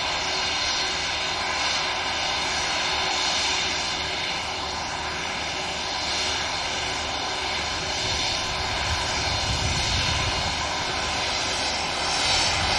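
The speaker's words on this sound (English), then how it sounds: "Nice bit of prop action coming up." An Aer Lingus regional turboprop airliner at Manchester Airport gives a loud, continuous propeller and engine drone that holds steady throughout, with no talk.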